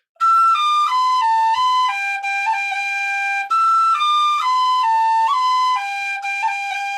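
Tin whistle playing a phrase of The Stone of Destiny reel slowly, with tongued rolls and a cut on the B; clear, steady descending note patterns repeated twice, solo and close, with no talking.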